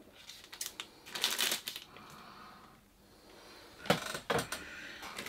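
Scissors cut into a cardboard ice cream box in two clusters of close, crisp snipping and rustling, with a quieter pause between them.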